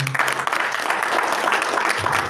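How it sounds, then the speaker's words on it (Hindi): A crowd at a direct-selling motivational event breaks into loud, sustained clapping, a dense, even roar of hands with a faint low hum briefly underneath. "एक बार जोरदार ताली हो सकती है"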